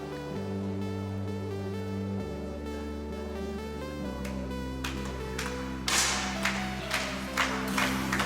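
Spectators clap at a rifle shooting final in Poland, with scattered, uneven claps breaking in over a steady tonal hum and growing denser toward the end.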